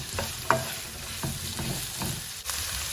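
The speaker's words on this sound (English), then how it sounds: "I'm going to add the onions and cook for 5 minutes. Just need them to be lightly golden." Onions frying in a pan, cooking toward lightly golden, give a steady close sizzle broken by several sharp scrapes and clicks of stirring.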